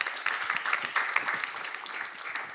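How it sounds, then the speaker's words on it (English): Audience applause at an art forum welcome session, a short burst of moderately quiet clapping from a crowd, scattered and fading slightly. "Another round of applause for everybody"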